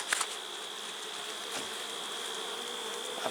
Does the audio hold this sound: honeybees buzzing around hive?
yes